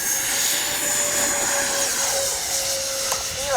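A radio-controlled model airplane from Bitco Hobby flying into the wind, its engine a steady high whine held at a distance with a faint shifting buzz, no voices over it.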